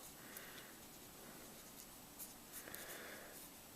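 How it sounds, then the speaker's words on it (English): Limit notation for a calculus example being written by hand: faint, soft scratching strokes over steady background hiss, with no talk. "So I'll write my limit notation."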